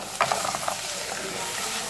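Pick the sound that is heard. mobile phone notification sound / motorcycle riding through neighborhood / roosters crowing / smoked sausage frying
smoked sausage frying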